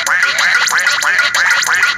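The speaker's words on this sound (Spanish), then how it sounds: "¡Estira el cuello al ganso!" Rapid, loud honking from a goose in a video game minigame repeats in quick bursts, a nasal quacking rhythm of several calls per second, alone without talk.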